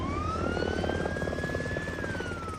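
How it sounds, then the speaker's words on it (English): A PG&E Black Hawk helicopter flies nearby, a steady loud rotor thump with a rising then falling whine from the turbine held throughout, and no talking. "Marin County Fire Chief Jason Weber can deploy one of PG&E's 4 Black Hawk helicopters."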